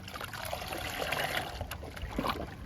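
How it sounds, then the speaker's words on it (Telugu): Water is stirred and poured together with a potato-based liquid fertilizer for flowering plants, making a close trickling, sloshing liquid sound with a few small splashes. "ఇప్పుడు వాటర్ని, లిక్విడ్ని కలుపుకుందాము"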